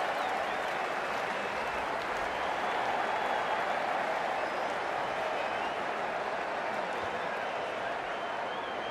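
Stadium crowd in a Pakistan vs New Zealand T20 cricket video game cheers and applauds in a steady, dense roar that holds evenly throughout.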